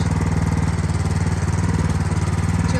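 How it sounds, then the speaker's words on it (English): Craftsman 16-inch 208cc rear tine tiller engine running steadily in a garden, a loud, close, continuous pulsing small-engine drone with rapid regular firing beats and no pauses. "208cc rear tine tiller"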